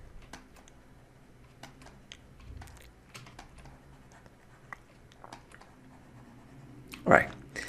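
Computer keyboard keys being tapped during a Photoshop retouching session, sparse scattered clicks spread across the span at low level, with a louder brief burst near the end.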